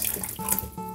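Turtle tank filter media is rinsed under running tap water, giving a brief, close splashing gush with small shifts in the flow.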